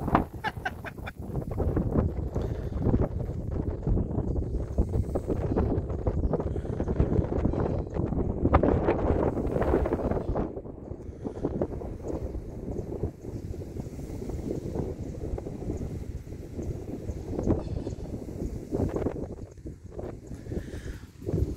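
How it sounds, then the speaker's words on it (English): Gusty wind buffets the open air at Orlando Wetlands Park in Florida, a steady rough rumble with stronger blasts, close and unbroken, with no voices. "It's quite breezy today, in case you can't tell."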